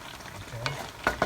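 Butter sizzling in a pan with shrimp scampi being stirred, a short, fairly quiet crackle broken by a couple of scraping stir strokes near the end.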